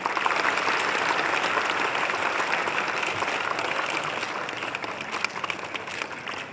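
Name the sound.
audience applause at event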